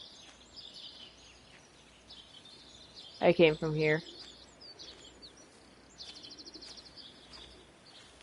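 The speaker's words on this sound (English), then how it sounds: "It's weird, it's saying the birds have died, but I can still hear them." Birds chirp in a video game, with thin high calls and rapid trills scattered through the background and a quick chattering burst near the end, while someone talks quietly over them.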